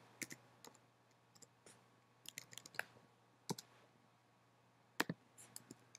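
Sparse, irregular clicks of typing on a computer keyboard, crisp and close, with uneven pauses between keystrokes over a faint background hum.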